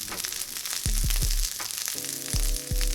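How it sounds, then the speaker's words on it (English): Onions sizzle in hot sesame oil in a small frying pan over high heat, a steady close hiss broken by a few low thuds and scrapes as they are stirred to coat. "Once hot, add your onions and mix to coat it in the oil."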